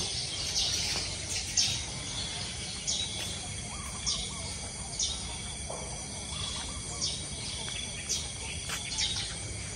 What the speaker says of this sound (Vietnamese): chim hót liếu lo